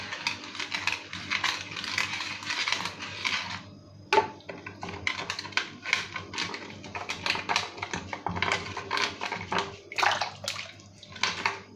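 Wooden churner stirring a raw mango drink (kairiche panhe) with small floating mango pieces, giving a steady run of close, quick clicking and sloshing taps that pause briefly and then carry on, with no talk.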